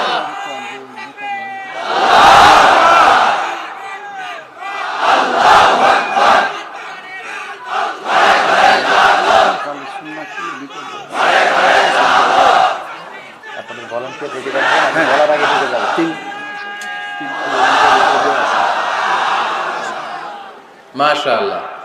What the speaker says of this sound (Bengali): তাকবীর পড়েন তো, লিল্লাহে তাকবীর।